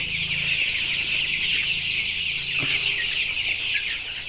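A shed of about 1,500 nineteen-day-old colour bird chickens fills the space with dense, constant high cheeping and clucking close by, a few nearer calls standing out.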